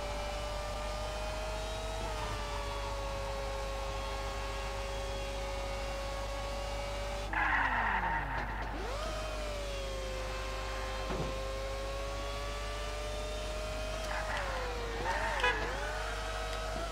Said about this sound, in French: je pète des gros freins à main